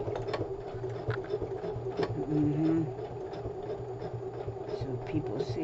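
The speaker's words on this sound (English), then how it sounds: "We are the feed dogs of the sewing machine." A sewing machine whirs steadily up close, its motor humming under a quick regular clatter of the feed dogs. A brief higher whine rises midway, and the running never stops.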